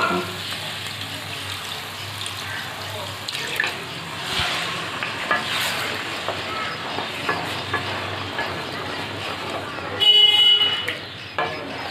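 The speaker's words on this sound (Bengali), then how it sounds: "এই মশলার বাটি ধোয়া জলটা দিয়ে দিচ্ছি।" Water used to rinse a spice bowl is poured into a simmering Bengali egg curry cooked with raw jackfruit, producing a steady rushing, sizzling wash that swells briefly near the end, with some talking in the background.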